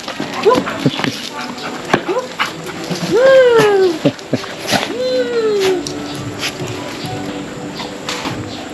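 A dog whimpers and whines in a few rising and falling cries, close by, with people talking around it.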